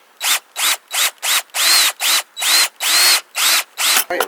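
A cordless drill spins in about a dozen short, loud trigger bursts, close up, while driving a screw into a burner part of a gas grill. Each whir rises and falls, and a small clatter comes at the end.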